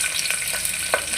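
Onion frying in ghee and oil in a pan, a steady bright sizzle with a few light stirring clicks, close and fairly loud, no voices.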